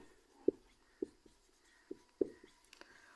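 A pen writes out a Class 9 maths solution by hand, giving a few soft, separate taps and short strokes against quiet background.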